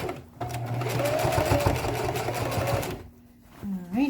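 A sewing machine stitches a handbag at close range in one steady run of about three seconds, with a quick mechanical chatter, then a pause before a short restart and a brief voice.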